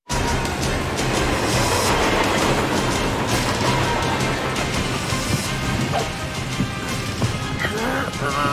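A train rolls along its rails in the PS1 game Covert Ops: Nuclear Dawn, a loud, dense, continuous rumble broken by scattered metallic clanks and knocks.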